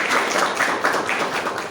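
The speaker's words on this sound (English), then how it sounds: "A huge round of applause for our esteemed guests for the day." Applause from the audience welcoming the guests at a teacher education faculty development event, a steady dense wash of many hands clapping at moderate loudness with no voices on top.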